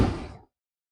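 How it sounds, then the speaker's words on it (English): A single heavy, solid Ferrari car door thump, close and loud, decaying quickly into silence. "the doors on this car shuts perfectly"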